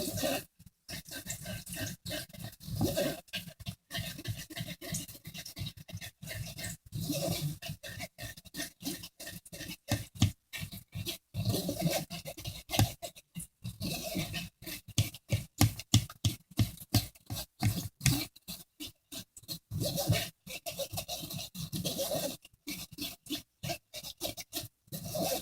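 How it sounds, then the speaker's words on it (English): Chopped onion and garlic sizzle in a pot, making a continuous crackling, spitting hiss with irregular pops and scraping, heard from a short distance throughout. "If you can hear it sizzling back there in the background."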